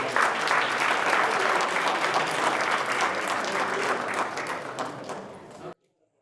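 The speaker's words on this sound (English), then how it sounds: "A round of applause for the Dabki troops." An audience applauds a Dabke dance troupe at an Arab American Month lunchtime event, with dense, loud, sustained clapping that tapers slightly before stopping abruptly.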